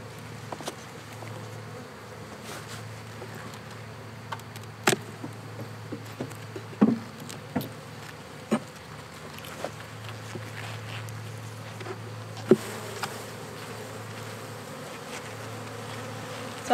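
Honey bees buzz steadily as they are brushed off hive supers during a honey harvest, with scattered light taps and knocks cutting through the constant hum.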